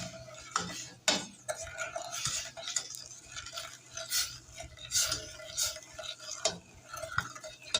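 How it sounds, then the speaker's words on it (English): A spoon stirs no-bake cookie mixture in a pot on a burner over medium heat, giving close, soft scraping and clinking strokes in an irregular rhythm, fairly quiet with no voices. "And we start stirring away."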